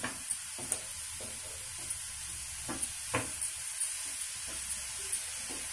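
A spoon stirs cucumber chutney ingredients with tamarind, salt and turmeric in a pan over a faint sizzle and hiss, giving soft scraping strokes at a steady, unhurried pace close by, with no talking.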